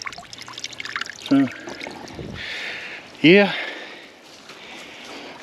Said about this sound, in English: Yeah, she's spraying out there real good. Looks like just the PVC connector busted.